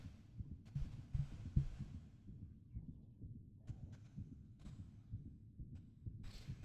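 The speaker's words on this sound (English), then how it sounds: "I could hear a heartbeat." Heartbeat in the video game Limbus Company, a soft, low, muffled thumping pulse repeating in a steady rhythm, faint and alone with no talking.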